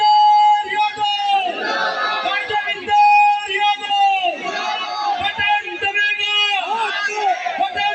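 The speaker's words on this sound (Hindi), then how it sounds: "मेरे साथ एक नारा देंगे, कांग्रेस पार्टी जिंदाबाद जिंदाबाद" A crowd at an Indian Congress Party political rally chants a party slogan in loud, rhythmic shouted bursts, with many voices overlapping in a close, energetic call-and-response.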